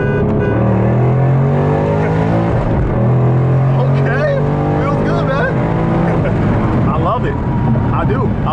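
A Roush 710-horsepower Mustang roars through a second-gear pull, its engine note climbing hard and loud close by while people talk over it.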